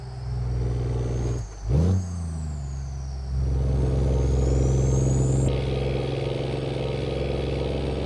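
A Kenworth W900 heavy-haul truck in American Truck Simulator climbs a hill, its engine a loud, steady droning whine. A sharp dip and recovery near the start marks a gear change, then the revs build and hold, with no talk.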